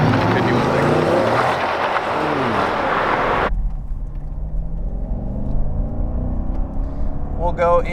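A red C7 Corvette cruises through traffic on the road, its engine rumbling loudly with rising and falling revs, then drops to a quieter, steady drone.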